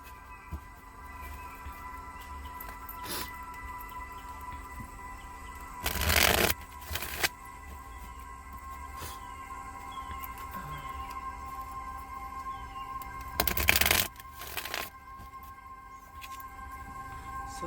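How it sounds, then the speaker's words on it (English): Tarot cards are shuffled in two short, crisp bursts several seconds apart, set against a faint, steady room hum and quiet background. "Get a couple good shuffles in though."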